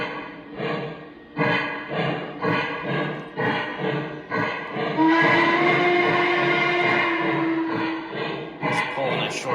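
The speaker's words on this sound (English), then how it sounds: "Just pulling a short passenger train just for testing purposes." A model Y6b steam locomotive pulling a short passenger train rumbles along the track with rhythmic clicking over rail joints, and a sustained whistle-like tone rises partway through.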